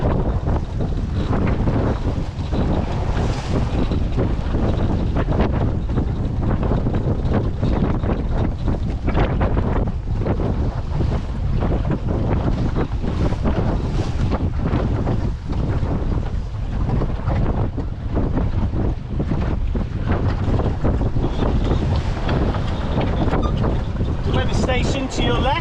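Strong, gusty wind roars steadily over a sailboat beating upwind in Force 4 conditions with Force 5 gusts, a loud, unbroken buffeting rush mixed with water noise.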